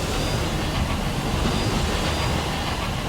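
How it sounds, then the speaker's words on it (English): A train in the video game Sunless Skies gives a steady, dense mechanical rumble and hiss, continuous and fairly close, with no talking over it. "Oh, there's a train in there."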